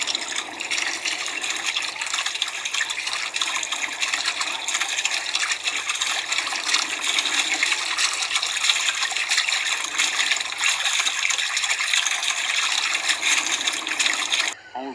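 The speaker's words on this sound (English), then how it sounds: "The first step to surfing is to paddle your board out to the water." Cartoon ocean water sloshing and splashing as a surfboard is paddled out to sea, a steady broadband wash running continuously at moderate loudness for nearly the whole stretch before cutting off abruptly.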